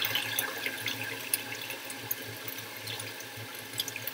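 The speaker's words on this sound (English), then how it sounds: "I'll put in a little bit more water" Tap water runs steadily from a faucet into a sink, a soft, continuous splashing flow with small bubbling irregularities and no voices.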